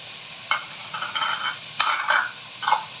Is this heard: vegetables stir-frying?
yes